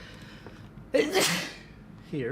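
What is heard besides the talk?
sneeze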